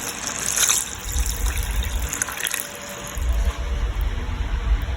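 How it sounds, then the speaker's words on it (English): Water poured onto meat while cooking, a steady trickling splash that runs continuously for several seconds over low burner rumble, with no talking. "I'm gonna add the second water on my meat."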